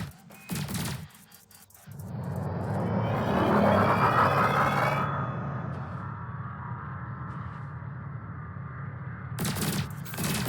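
Spaceship weapons firing in Elite Dangerous while shooting canisters: a burst of sharp shots, then a long rolling roar of fire that slowly fades, with more shots returning at the end.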